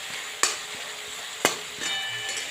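Coriander is stirred into a green spice masala frying in ghee for Kathiyawadi dahi tikhari, giving a soft continuous sizzle broken by two sharp spoon knocks against the pan.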